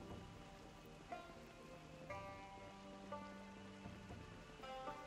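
Steady rain falls in the video game Project Zomboid, a continuous soft hiss lasting throughout, mixed with sustained tonal game music and a few brief brighter accents, with no talking.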